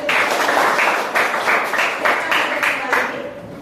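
A class of children clapping hands together in rhythmic bursts, a dense, loud patter of many small hands repeating in short regular groups.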